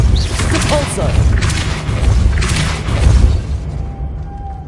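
The Depulso spell blasting in Hogwarts Legacy, with several loud, rumbling whooshing bursts that swell and fade over a dense game soundscape, finishing in a quieter tail.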